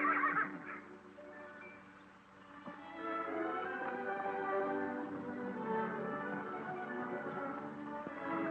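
Ranch horses neigh and whinny in a long, sustained call at moderate distance, with a brief louder burst at the start and no talk over it.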